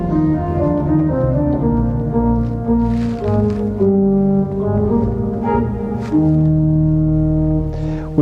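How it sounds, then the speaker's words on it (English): A Mathis pipe organ from 1995 in a Vienna church plays sustained low notes on the Bourdon 8-foot and chorale bass 4 stops, with deep, steady, overlapping tones that shift pitch in a slow chorale line. "Then we can add Bourdon 8-foot. And then the chorale bass 4."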